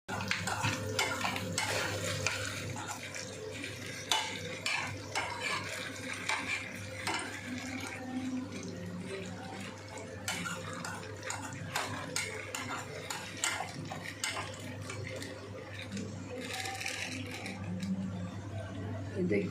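A spoon stirs palak bhaji, spinach cooking in a pot, giving repeated close metal clinks and scrapes over a low steady hum throughout.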